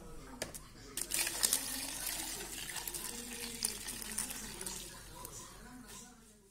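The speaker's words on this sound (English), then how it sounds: "Please put a glass of water in blender." A glass of water pours into a blender holding cut mango pieces, a quiet gurgling splash that runs for several seconds.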